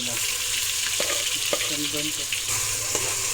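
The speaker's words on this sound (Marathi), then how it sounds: "अद्रक लसूण पेस्ट टाकले. आता थोडी त्याच्यामध्ये भाजून घेतो थोडी व्यवस्थित." Ginger-garlic paste and masala fry in hot oil with a steady, close sizzle, punctuated by a few soft clicks of stirring, no voices.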